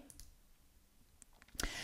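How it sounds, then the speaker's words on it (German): A mouse button clicks once sharply near the end of a quiet stretch while someone presses OK in statistics software, with a couple of fainter clicks before it and no talk. "Und wir klicken auf OK."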